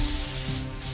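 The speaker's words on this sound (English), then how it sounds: "we want to make sure we spray our glue on the end of our end cap." Spray glue hissing from a can onto a countertop end cap, a loud, close, continuous spray with a brief dip near the end.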